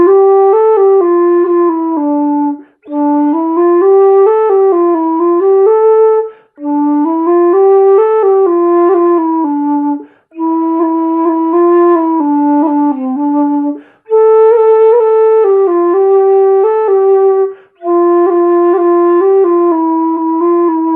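A dongxiao, an end-blown Chinese bamboo flute, plays a melody in breathy, sustained phrases separated by brief pauses for breath, loud and close with no accompaniment.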